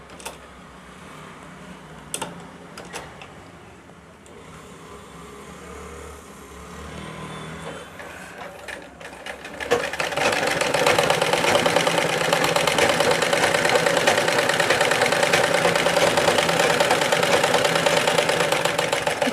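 A sewing machine stitching a cross patti starts up after a quieter stretch, its motor then whirring in a steady, continuous drone to the end.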